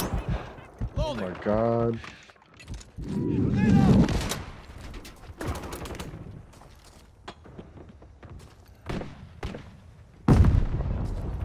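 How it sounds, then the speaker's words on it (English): Gunfire and explosive booms from Call of Duty MW3 Ground War, loud bursts and thuds scattered through the match alongside excited talking from a player. "Taking effective fire."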